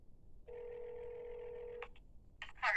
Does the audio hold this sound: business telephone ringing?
yes